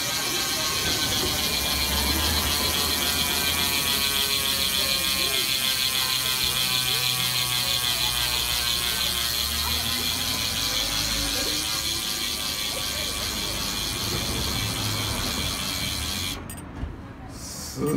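Rapid, continuous ticking of a Mavic Cosmic Pro Carbon SL wheel's freehub ratchet spinning close up on a Pinarello Dogma F8 road bike, fast and even, slowing slightly before stopping near the end.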